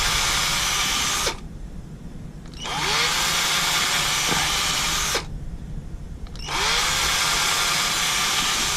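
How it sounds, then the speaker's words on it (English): A handheld power drill cuts copper traces on stripboard, held freehand without a jig: two loud, steady bursts of high whine, each a few seconds long, separated by short pauses as the bit spins down and restarts. "I'm doing it with one hand, holding the strip board in the other hand with the drill just free floating"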